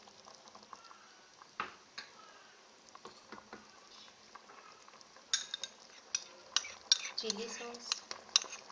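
A spoon clinks and scrapes in a pot of chicken corn soup as it is stirred, soft scattered taps growing busier and louder toward the end, with a quiet voice speaking briefly.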